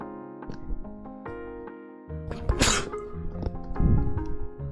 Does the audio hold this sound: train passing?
no